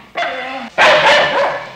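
A dog barks in a short, loud burst that breaks off, followed by a second, louder round of barking, close and dominant with no speech over it.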